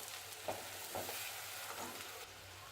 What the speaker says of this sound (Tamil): மெதுவாக இப்போ நம்ம ஒரு கிளறி விட்டுருவோம்